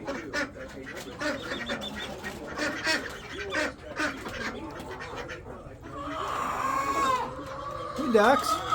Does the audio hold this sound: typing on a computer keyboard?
no